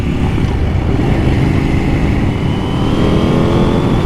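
KTM 790 Duke motorcycle engine revs hard in sport mode, a loud, close, continuous roar rising in pitch as it climbs through the rev range, with wind buffeting.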